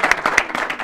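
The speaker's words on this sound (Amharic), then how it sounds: "አጨብጭቡልኝ" A brief burst of studio audience applause on a comedy talk show, many hands clapping densely at close range for under a second.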